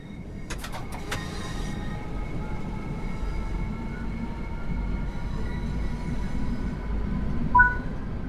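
A Class 465 Networker electric commuter train in Train Sim World 5 runs steadily with a low rolling rumble and a faint motor whine, a pair of sharp clicks near the start, and a short high squeal near the end.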